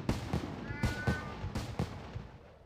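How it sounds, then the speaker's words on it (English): A cat in the video game RuneScape gives a short, thin meow over a busy game soundscape of repeated sharp thumps and bursts, with faint background talk. "is it actually gonna make meowing noises constantly?"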